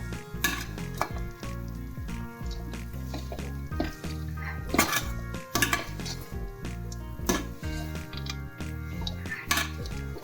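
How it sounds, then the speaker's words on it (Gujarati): A spoon stirs a thick jaggery and dry fruit pak mixture in a pan over a low flame, giving irregular scraping and clinking knocks against the metal beneath steady background music. "આમ સારી રીતે બધું જ મિક્સ કરી દેવાનું છે."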